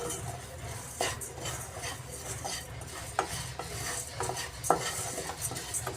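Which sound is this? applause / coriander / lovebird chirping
coriander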